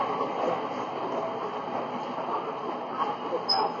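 A Sydney train runs at Chatswood station with a steady, continuous rumble and rolling rail noise that holds at an even level throughout.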